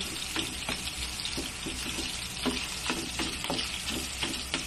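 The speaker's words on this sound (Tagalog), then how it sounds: "Inuna muna namin yung isang pirasong langgunisa. So, pinapalutong lang." A piece of longganisa sausage crackles and sizzles in a pan as it crisps, a close steady frying hiss broken by repeated small pops and spatters.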